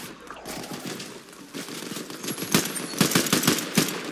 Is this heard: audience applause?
no